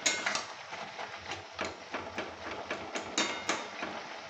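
Eggplant and bean curry is stirred and mixed in a pan, with repeated light clinks and scrapes of a utensil against metal coming in an irregular rhythm, close and fairly quiet.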